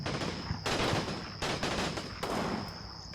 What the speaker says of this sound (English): it sounds like an MG34.